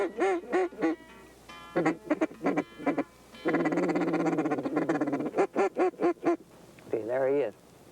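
A duck call mimics several hen ducks calling, close quacking bursts mixed with a sustained raspy feeding chatter and a final drawn-out quack, alone without talking.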